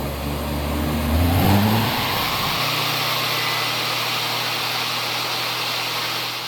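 A treadmill DC motor, fed toward its 100-volt rating, spins up with a rising whine that settles into a steady, loud high-pitched hum with a constant low drone beneath, heard close and alone.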